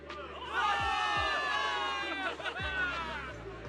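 A crowd cheers and shouts for victory in the video game Zenless Zone Zero, a dense roar of many voices with rising whoops, loud and close, lasting a few seconds.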